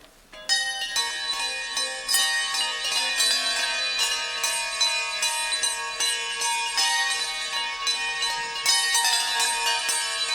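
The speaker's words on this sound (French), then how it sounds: "Un petit jingle avec nos camarades sonneurs de cloche, car nous sommes bien évidemment lundi de Pâques" Church bells rung by bell ringers as a short Easter Monday jingle on a French TV show, a dense, loud peal of overlapping metallic strikes ringing continuously with a rich, sustained shimmer.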